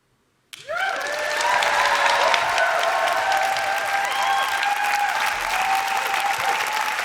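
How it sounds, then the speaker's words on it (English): A large crowd bursts into applause and cheering at a poetry slam grand final at the Roundhouse, starting abruptly after silence and holding loud and sustained, with whoops rising above the clapping. "Let's keep that applause going."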